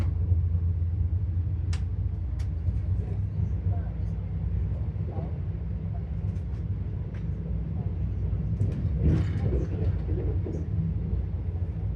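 A passenger train runs toward Bardhaman, giving a steady low rumble and rattle from on board, with faint clicks and what may be muffled background voices.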